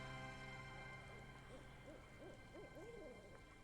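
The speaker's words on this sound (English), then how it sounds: "I'm hoping you guys can hear the weird like owl pigeon noises in the background." Faint, owl-like hooting coos from a pigeon repeat in soft rising calls in the background, distant and low beneath a steady hum.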